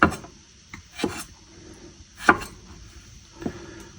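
A knife slices through garlic on a cutting board, a few distinct chopping strokes spaced apart, close and fairly quiet with no talking.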